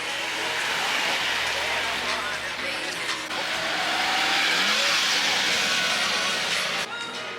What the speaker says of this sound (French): ensuite toutes les voitures arrivent pour faire le défilé